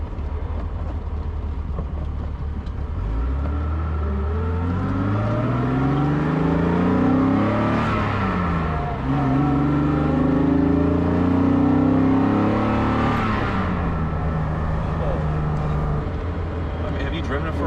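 A cold Mercedes 300SL roadster engine revs up through rising pitch, drops on the 1-2 gear change, then climbs again, loud and close, with people talking underneath.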